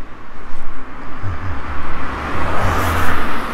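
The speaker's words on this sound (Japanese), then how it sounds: "結構車通るね。" Cars pass along a road at night in Kita-Kamakura, a steady loud whooshing roar of tyres and engines rising and swelling as vehicles go by close to the listener.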